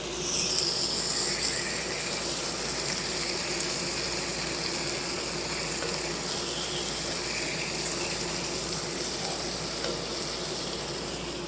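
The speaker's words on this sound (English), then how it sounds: "Let's throw in our tomatoes." Undrained canned diced tomatoes in tomato sauce with green chilies are poured into a hot cast iron pan, giving a loud, continuous wet hiss and sizzle with faint clattering, and no talking.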